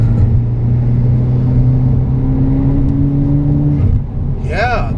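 Modified Volkswagen Jetta GLI six-speed with a turbo engine pulls hard under acceleration, a steady loud drone rising through the revs before easing off near the end, with a brief whirring sweep over the top.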